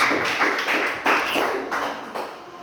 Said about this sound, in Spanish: Démosle la ofrenda de palmas a nuestro Padre Celestial